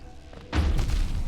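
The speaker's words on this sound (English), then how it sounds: "I didn't expect that explosion." A sudden explosion in the video game Hollow Knight, a deep booming thud that hits abruptly and rumbles on briefly after a quiet lead-in.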